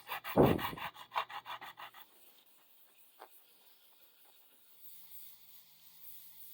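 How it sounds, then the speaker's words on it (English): A dog pants close by in quick, rhythmic breaths for about two seconds, then the sound drops away into a near-silent room with faint rubbing. "so the dog's name is Buddy"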